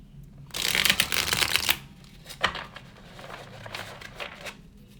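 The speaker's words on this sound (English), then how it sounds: "So I'm gonna do a little shuffling. See how well it shuffles." Crisp, rapid riffling of a new tarot deck being shuffled, a loud dense burst followed by quieter intermittent overhand shuffles and taps.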